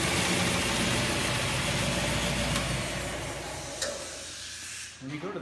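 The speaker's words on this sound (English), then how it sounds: "When you go to the belt sander like that," A belt sander melts the end of a shock cable, giving a steady loud hissing, grinding roar that holds for several seconds and then fades out at the end.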